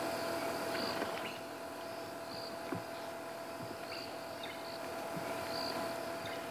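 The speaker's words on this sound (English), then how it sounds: "The answer is crickets. And actually, in this case, they're not just crickets. There's also cicadas calling as well." Crickets and cicadas call at sunrise on a Sabi Sand safari, a steady insect drone with rhythmic pulsing chirps repeating throughout, moderately loud and unbroken, with faint rustles and no speech.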